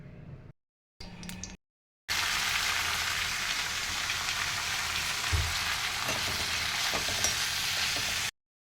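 Chopped greens fry in hot oil, a steady loud sizzle that runs alone for several seconds after a few brief broken bursts, with a faint stir or clink midway.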